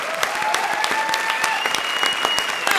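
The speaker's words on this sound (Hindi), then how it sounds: "संजीव शर्मा जी के लिए जोरदार ताली बजाइए।" A comedy show studio audience bursts into loud, steady applause, dense clapping sustained throughout without a break.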